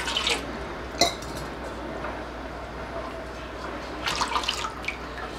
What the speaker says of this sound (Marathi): थोडंसं पाणी घालते या भांड्यात.